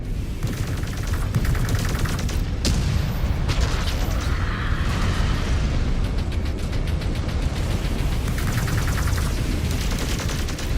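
Mech weapons blast nonstop in MechWarrior 5: Clans, a loud, close barrage of rapid gunfire bursts and booming impacts with mechanical clatter, broken by one sharp crack partway through and no speech.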